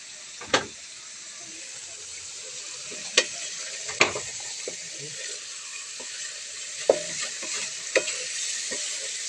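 Bitter gourd (ampalaya) frying in oil in a pan, a steady hiss of sizzling broken by sharp scraping clacks of a spatula stirring every second or so, fairly close and with no talking.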